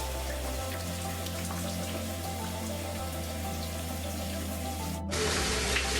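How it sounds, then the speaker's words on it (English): Water runs from a tap or shower, rinsing conditioner out of curly hair in a steady close hiss of spray, and a brighter, louder stream cuts in near the end. "I just go and rinse out the final little rinse"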